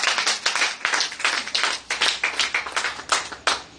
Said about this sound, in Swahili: Tupigie Bwana makofi makubwa